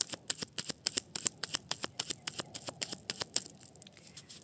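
A tarot deck is cut and shuffled close up, a quick flurry of soft papery card riffles and flicks in an irregular rhythm, fairly quiet with no talking.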